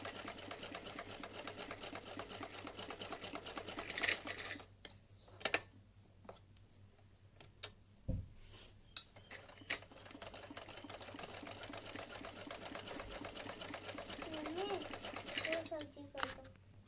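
A sewing machine stitches lace onto a small cotton dhoti for a Laddu Gopal idol, running in steady rapid bursts with brief pauses and handling clicks, while someone talks over it.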